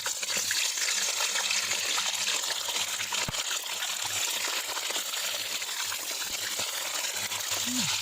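Chicken, about a kilo, frying in a karahi of hot cooking oil for charsi karahi, giving a steady, loud, close sizzle with a constant hiss throughout and faint low hum beneath, no talk.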